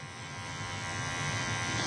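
Electric hair clippers fitted with a half guard buzz steadily while tapering a woman's short undercut bob around the ear and temple, a close, continuous motor hum.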